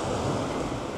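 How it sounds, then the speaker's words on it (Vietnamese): Steady broadband wash of ocean surf on the beach at Phan Thiet, white foam churning, with wind buffeting the microphone; a continuous close roar without distinct individual crashes in this brief moment. "Sóng hôm nay là trắng xóa luôn"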